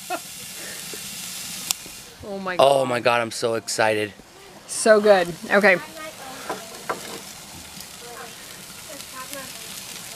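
Homemade pizza made with Costco ingredients sizzles in a wood-fired oven, a steady, faint hiss and crackle running under excited voices that talk over it.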